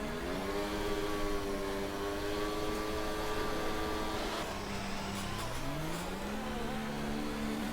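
A simulated Formula 1 car's engine in a racing video game revs and holds at high RPM at the pit start, steady harmonic whine, then drops and climbs again as the car pulls away, loud and alone.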